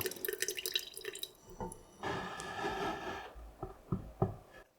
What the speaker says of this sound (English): Pour the rest of the marinade juices on top.